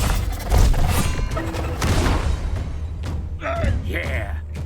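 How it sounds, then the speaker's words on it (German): Traps exploding in the video game Wardrum, a dense stretch of booming blasts and crashing impacts layered with game music and effects, loud and continuous, with people talking over it. "Schmeiß noch ein paar Fallen hin und der andere lässt sie jetzt explodieren."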